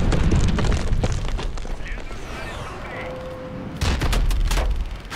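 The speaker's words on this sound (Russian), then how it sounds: "Стреляют, надо ускориться." Futuristic gunfire in the Call of Duty: Advanced Warfare video game, loud bursts of rapid shots with booming impacts, dropping away briefly before a renewed volley.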